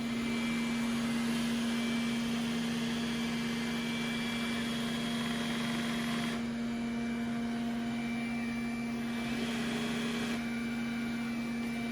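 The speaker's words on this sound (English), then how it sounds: "You can hear the tires spinning." An iRobot Roomba J7+ robot vacuum mop working over a ketchup stain, its motor a steady droning whir with a constant tonal hum and faint spinning wheel noise, continuous and fairly close.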